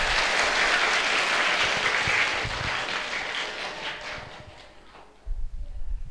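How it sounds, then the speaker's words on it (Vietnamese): Applause from a seated gathering at a Buddhist temple talk, a steady wash of many hands clapping that thins and fades, followed by a few close handling knocks. "Rồi, tự vỗ tay tán thưởng."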